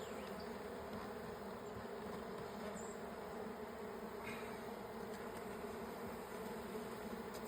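Honey bees buzz around a busy spring hive in a dense, continuous hum, many wings at once, close and steady with no talking.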